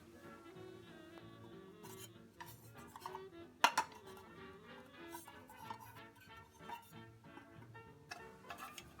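A metal post-war mess kit's pot, lid and cup are handled, producing quiet clinks, scrapes and light metallic taps, with one sharper clang partway through, close and intermittent.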